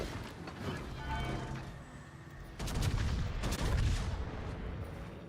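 Secondary guns of a warship firing in a naval battle game against a Friedrich, a dense rumble of rapid booms and mechanical clatter, loud and continuous, swelling midway.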